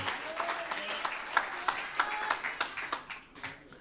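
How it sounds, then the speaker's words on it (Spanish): A church congregation at an annual retreat gives applause in worship, a rhythmic clapping of many hands at moderate distance, steady beats with some voices mixed underneath. "Dale un fuerte aplauso al Rey de Gloria."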